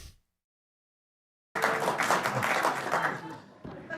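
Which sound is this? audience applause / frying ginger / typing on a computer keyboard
audience applause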